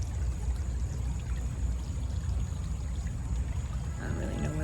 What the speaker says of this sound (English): Next to a little river.